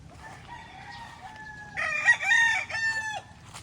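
Young chickens and a rooster in a fly pen, with a drawn-out crow rising over soft clucking; the crow comes close and fairly loud midway and then fades out.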